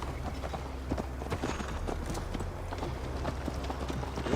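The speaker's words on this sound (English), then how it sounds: "Mount up, Eivor. It's a long ride to Tamworth." Horse hooves beat a steady, quick clip-clop under a mounted ride in Assassin's Creed Valhalla on PS5, a continuous galloping rhythm mixed with game ambience at moderate level, no speech.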